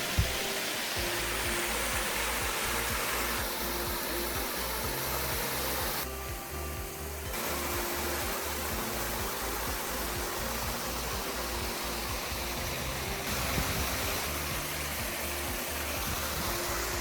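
Ogima Falls, a small waterfall in Michigan's Upper Peninsula, gives a steady, full rush of falling water that holds an even broadband roar from start to finish, with no voices.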